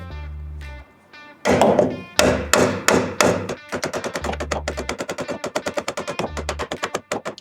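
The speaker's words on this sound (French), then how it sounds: "vous le faites avec un marteau à sable ou un maillet." A sand-filled mallet strikes a car shock absorber during a front and rear shock replacement, giving a few heavy, loud thuds followed by a fast run of many sharp, evenly spaced knocks close by.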